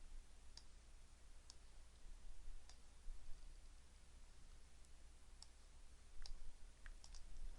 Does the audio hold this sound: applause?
no